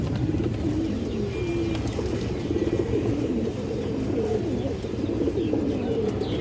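Pigeons of old-line stock coo in a loft or market, low soft rolling coos repeating over a continuous murmur of other birds, steady and moderately close throughout.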